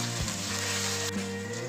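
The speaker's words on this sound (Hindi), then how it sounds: "ये देखिए प्याज और हमारा अदरक और लहसुन अच्छे तरीके से भून चुका है" Onions with ginger-garlic paste frying in oil for chicken pulao, a steady close sizzle running through without pause, with a low hum beneath it.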